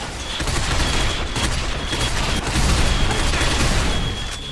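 Sustained gunfire from the Binary Domain video game, a dense continuous fusillade of rapid shots at steady loudness, close and alone with no talk over it.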